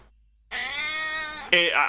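A pet cat lets out a drawn-out, close meow of about a second, then a second sharper, rising cry right after, heard on its own with no talking.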